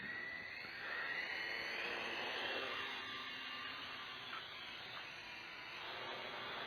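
A KAI DENG K70c Sky Warrior quadcopter drone flying outdoors at night, a steady high whining buzz that swells and fades as it passes at moderate distance, on its own.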